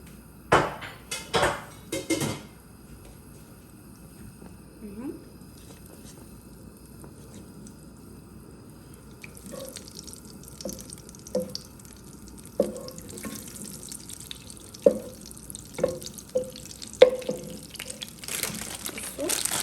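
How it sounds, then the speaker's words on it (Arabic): A wooden spoon scrapes and clacks in a pot of food sautéed in butter, in scattered bursts, with faint sizzling beneath and a few louder knocks early on. "نجيب بقى المعلقه الخشب عشان نقلب فيها"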